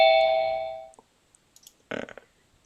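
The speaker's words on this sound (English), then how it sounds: "doorbell is loud" A loud doorbell chime rings once and decays over about a second, followed by a few faint clicks and a short burst of shuffling noise.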